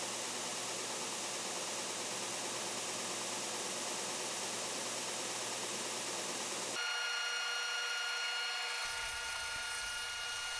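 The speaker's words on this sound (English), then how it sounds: "I sand the outside edges round on the edge sander to the middle of the marked lines." An edge sander rounding the outside edges of wooden discs cut on a jigsaw, a steady loud broadband grinding drone that shifts pitch and character partway through as the contact changes.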